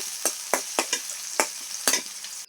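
Onions frying in oil in a pan for a tomato-potato tangra fish curry, with repeated short crackling bursts and stirring scrapes at an irregular rhythm over a steady sizzle, close and moderately loud.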